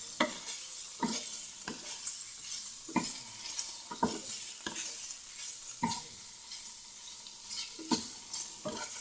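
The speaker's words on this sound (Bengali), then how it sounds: "বেশি নাড়বো না, সামান্য পনিরটা নেড়ে নেব।" Paneer frying in a pan is stirred gently, each spatula scrape landing as a distinct scratchy stroke at an uneven pace over a soft, constant sizzle, with no one talking.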